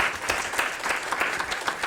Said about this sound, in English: Please round of applause for Olivier real quick and his team.